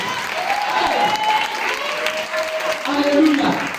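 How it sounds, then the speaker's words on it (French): A church congregation applauds steadily throughout, dense clapping filling the space, with voices and sung tones rising over the applause during acclamation of Jesus Christ. "On acclame le Seigneur Jésus-Christ de Nazareth."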